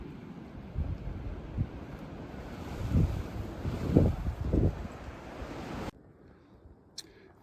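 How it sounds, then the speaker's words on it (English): Wind buffets the microphone on a mountain ridge on the Appalachian Trail, a loud steady roar with gusty surges, then cutting off to near quiet for the last seconds. "This is the side the wind is coming from."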